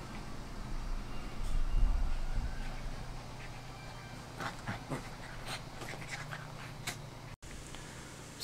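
A dog breathing and panting close by indoors, a soft rhythmic run of breaths with a louder stretch early on and faint rustles and small knocks throughout.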